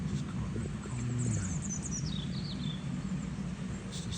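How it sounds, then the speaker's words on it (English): Small birds chirp and twitter around a backyard feeder in spring, a few thin high calls rising over steady outdoor background noise, moderately distant and not very loud. "It's just the birds."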